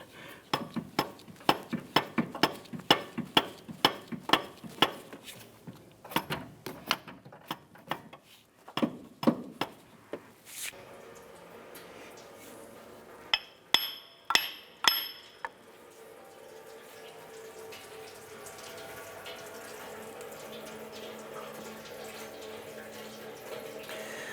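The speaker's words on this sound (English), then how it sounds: "I'm going to go ahead and tap this with the mallet" A mallet taps repeatedly on a car engine part while a timing belt kit is replaced on a 2004-2008 Acura TL. The sharp knocks come in quick clusters for about fifteen seconds, then give way to steady trickling coolant draining.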